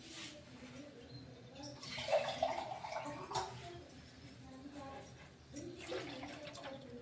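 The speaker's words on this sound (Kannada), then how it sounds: "ಹಾಗಾಗಿ ಒಂದೂವರೆ ಚರಿಗೆ ನೀರು ಹಾಕ್ತೀನಿ ರೀ" Water splashes and gurgles as about one and a half vessels of water are poured into a cooking pot, a steady stream with a louder burst midway, over a faint background hum.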